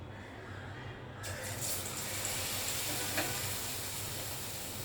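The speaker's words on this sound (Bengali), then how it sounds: "এখন আমি একটা একটা করে বেগুনগুলোকে এভাবে করে খুব ভালোভাবে মাখিয়ে মাখিয়ে নিয়ে তারপর তেলে ছেড়ে দেব।" Eggplant slices for beguni frying in hot oil, a steady dense sizzle that swells as pieces drop in, close and continuous with no voices.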